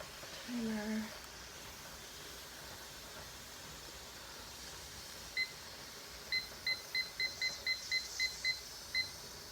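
A kitchen timer beeps as it is set beside a steaming pressure canner of green beans: one short beep, then a quick run of about nine evenly spaced beeps, faint against a steady background hiss.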